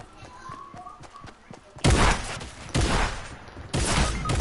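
Three heavy, booming gunshots ring out at spaced intervals after a stretch of quieter game ambience, each blast loud and followed by a rumbling tail.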